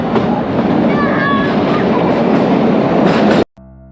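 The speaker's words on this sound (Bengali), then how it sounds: "হিমালয়ের বুক চিরে ঝিকঝিক শব্দে ঘন্টায় 20 কিলোমিটার গতিতে আমাদের টয় ট্রেন হিমালয়ান কুইন ছুটে চলেছে।" The Himalayan Queen toy train on the Kalka–Shimla mountain railway runs at about 20 km/h, giving a loud, close, steady rumble and rattle of wheels and carriages that continues, then cuts off abruptly near the end.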